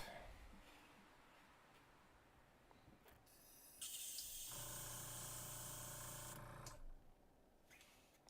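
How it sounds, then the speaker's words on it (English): An airbrush spraying water during a rinse to clear out orange paint gives a steady, loud hiss with a pumping hum for about three seconds, after quieter background noise, then stops abruptly. "we're going to be doing a couple more of this rinse and spray to try to get all the orange paint out of here"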